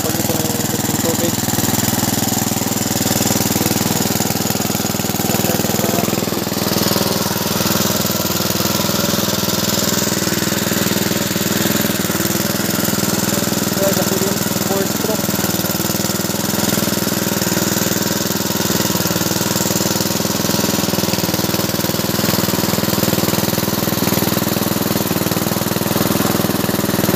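A borrowed farm engine drives a water pump, running steadily and loudly up close with a continuous rattling drone that never changes.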